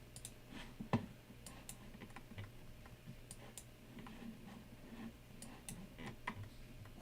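Faint, scattered taps and clicks of typing on a computer keyboard, irregular and quiet, with an occasional louder keystroke over a low room hum.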